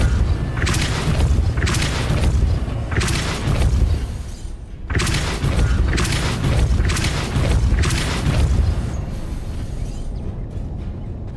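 Repeated Depulso spell blasts in the video game Hogwarts Legacy, a series of loud booming bursts roughly every second over dense game ambience, with no talk.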